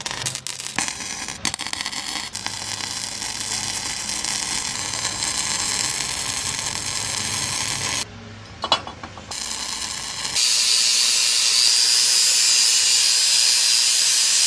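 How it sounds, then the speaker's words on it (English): Caps are welded onto cut steel tubing while repairing a blown-out trailer coupler, giving a loud, continuous crackling hiss that breaks off briefly and then returns as a harsher, brighter sizzle. "I'm gonna weld caps on."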